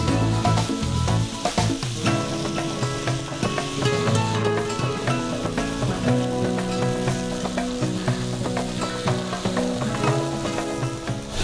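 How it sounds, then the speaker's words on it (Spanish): Potatoes browning in butter in a pan give off a steady, close, loud sizzle that runs unbroken through the whole stretch. "Inmediatamente agrego la papa y las dejamos dorar acá en la mantequilla."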